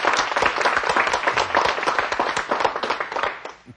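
Mothers in a television studio audience clap together during a math lesson, a dense, steady round of hand claps close and fairly loud, fading out at the end.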